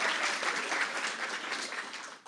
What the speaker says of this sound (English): that's okay, we can applaud